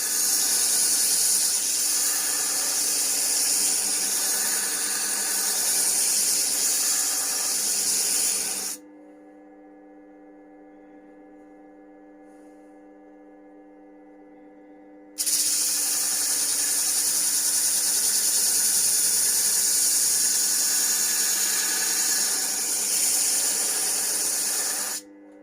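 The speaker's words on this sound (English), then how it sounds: "with the slower speed, and just grind" A Japanese Deba knife edge is ground away at slow speed, a loud, continuous hissing rasp in two long passes. Between them a quieter steady machine hum plays alone.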